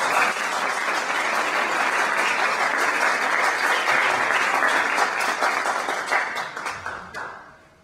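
Audience applause welcoming a doctor to the podium at a talk, a dense, steady wash of many hands clapping that holds strong for about six seconds, then thins out and fades away near the end.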